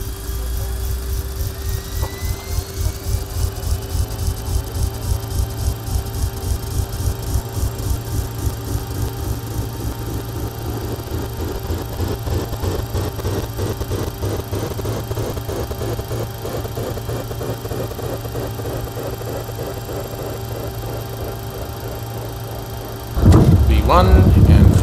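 Twin jet engines of a CRJ 200 airliner in X-Plane 11 spool up toward full takeoff power, a steady loud drone with a pulsing throb that builds, then a sharp louder surge at the end.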